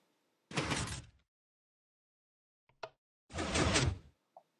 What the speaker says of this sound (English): The door should now close if you stand on the pressure plate.